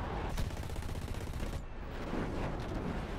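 Rapid bursts of gunfire from the War Thunder combat game, dense crackling shots stacked over one another in a continuous fusillade, fairly loud with no voices.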